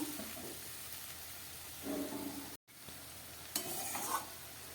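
Thick spiced masala for an eggplant and pabda fish curry being stirred and fried in a pan as its water dries off, a low sizzle with two bursts of scraping stirring and a brief cut in the middle.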